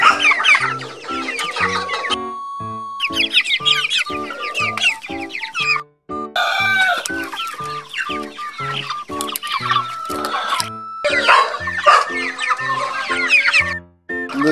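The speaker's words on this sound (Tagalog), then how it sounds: "mga manok." A flock of 37-day-old chickens clucks and chatters busily up close, overlapping calls in a constant rhythmic stream with brief gaps.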